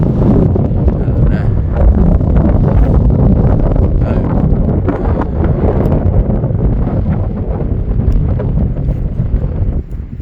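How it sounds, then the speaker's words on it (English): Cold wind buffeting the microphone at a wild camping spot, a loud steady rushing roar throughout with no clear talk. "Cold wind"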